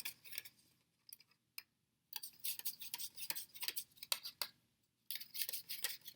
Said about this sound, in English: we're going to take our spoon and we're going to stir each cup